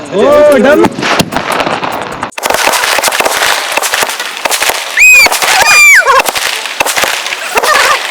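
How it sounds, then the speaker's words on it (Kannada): A rapid, loud string of firecrackers bursting and crackling nonstop on a road, with a few voices shouting over the bangs. "ಪಟಾಕಿ ಹಚ್ಚೋರು ಇವ್ರೆ ನೋಡಿ ಪಟಾಕಿ ಹಚ್ಚಿದ್ದು ಸಕ್ಸಸ್ಫುಲಿ 30 ಡಮ್ ಬಂದಿದೆ"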